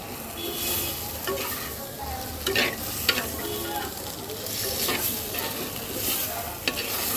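Mutton curry with new potatoes stir-fries in a clay pan, a steady close sizzle with repeated scraping stirs and occasional knocks running throughout, and no voices.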